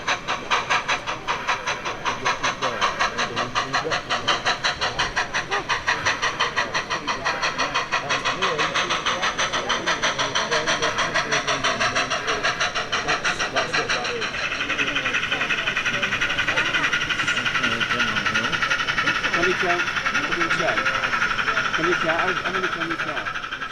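A model train runs steadily with a rapid rhythmic clatter and mechanical hum, close by, under continuous talk; the tone shifts slightly partway through.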